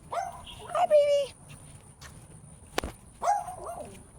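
A puppy lets out two short, high, wavering whimpers, spaced a couple of seconds apart, close by in a quiet outdoor setting with a sharp tap between them.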